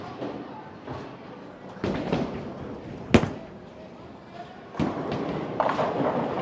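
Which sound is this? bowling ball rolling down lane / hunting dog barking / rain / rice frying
bowling ball rolling down lane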